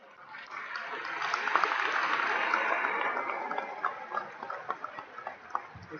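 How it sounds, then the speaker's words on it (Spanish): Audience applause at a lecture, a steady wash of clapping hands swelling and then thinning into scattered individual claps, heard from within the room. "primero un aplauso para ustedes."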